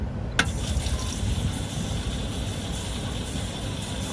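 A free public street water dispenser in Tokyo runs water into a bottle, a steady close filling rush that continues throughout after a brief clunk near the start, with no talking.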